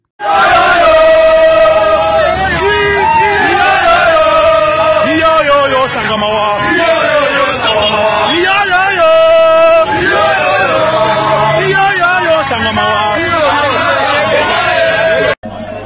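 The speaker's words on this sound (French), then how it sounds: "C'est une foule en liesse composée des militants du parti Ensemble pour la République" A large jubilant crowd of Ensemble pour la République party militants chants and shouts together, loud and sustained, with rhythmic massed voices and cheering that stop abruptly at the end.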